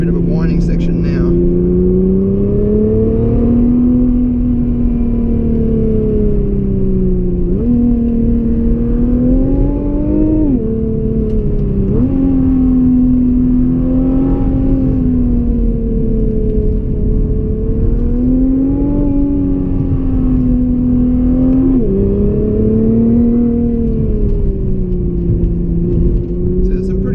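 Cabin drone of a 2017 Nissan GT-R on the winding Great Ocean Road, engine pitch rising and falling in smooth waves through gear changes and bends, loud and steady over road rumble, with someone talking throughout.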